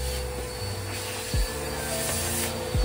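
A vacuum cleaner runs in another room as a carpet is about to go down in a ham radio shack under cleanup, giving a steady, muffled drone with a few brief knocks nearby.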